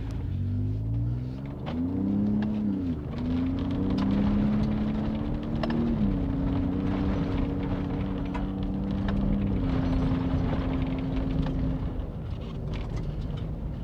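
A new Ford Raptor truck drives along off-road trails, its engine producing a continuous close rumble with audible gear changes as the pitch climbs and settles, and the cabin noise stays steady throughout.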